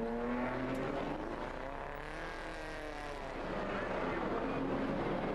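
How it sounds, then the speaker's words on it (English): Historic pre-1961 Grand Prix cars, including Maseratis, a Cooper Bristol and a Ferrari, racing at the Monaco Historic Grand Prix, engines wailing and sweeping past with rising and falling pitch over continuous loud track noise. "And then we have the similar Maserati of number 3, David Bennett."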